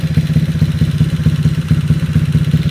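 A Honda Vario motorcycle with a 59mm bore-up engine idles close by, with a steady, loud, pulsing low throb and a faint mechanical clatter, and nobody speaks.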